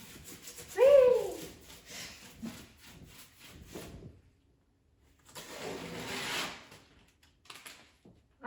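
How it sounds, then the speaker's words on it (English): Painter's tape is peeled off a painted collage in short tearing rubs, one sharp pull near the start and a longer scratchy strip later, with quiet gaps between them. "I'm peeling the tape."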